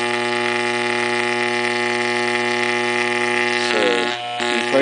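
An AC magnetic field pump runs and vibrates, giving a steady, loud electrical buzz with a strong harmonic hum that briefly wavers and rattles near the end.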